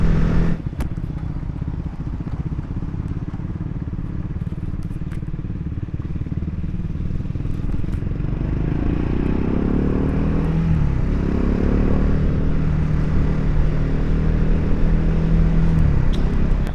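Triumph Speed 400 motorcycle on the road, its single-cylinder engine droning steadily with a low rumble that swells and falls in pitch as the rider rolls off the throttle and engine-brakes, with faint wind noise throughout and no speech.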